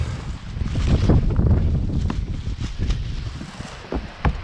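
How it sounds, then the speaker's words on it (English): Wind buffets the microphone outdoors during roofing work in heavy low rumbling gusts, swelling and easing, with a few sharp knocks near the end. "Kind of windy today, which is unfortunate"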